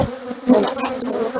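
Honey bees from a hived swarm buzz loudly and close at the hive, a dense, continuous drone with individual bees whining past.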